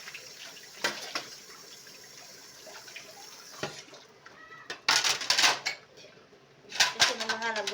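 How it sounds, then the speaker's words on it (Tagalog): Dishes, plates and cutlery clatter in a sink under running tap water, with bursts of loud clinking and splashing between quieter stretches. "Masarap maghugas pag maraming tubig."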